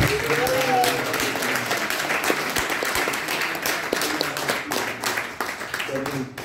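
A congregation at a Sunday church service applauds, a steady crowd of clapping hands for several seconds with a voice speaking over it and tapering toward the end.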